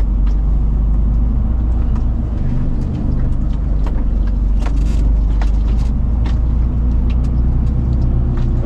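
A truck rolls along a rural Dutch road, its steady low rumble and road noise loud and continuous, with faint clicks and rattles scattered over the drone.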